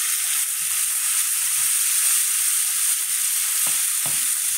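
Tomato paste fries in a pot for soup, giving a loud, even hiss of sizzling throughout, with a couple of soft knocks of stirring near the end.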